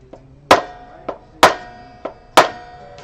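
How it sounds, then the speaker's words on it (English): A hammer strikes a fret on a Stratocaster-style guitar neck left unsupported: six sharp, ringing metallic knocks, loud blows alternating with lighter taps at a steady pace, close up. "yes, I'm hitting a guitar with a hammer and the neck wasn't supported"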